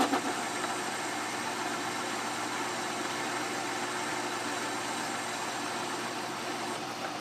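Atlas 10-inch lathe running while machining a part, giving an unbroken, even mechanical hum with a faint rattle that holds steady from start to finish.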